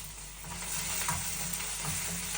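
Beans and potato pieces frying in hot oil in a pan, a continuous soft hiss with light stirring, fairly quiet and without voices.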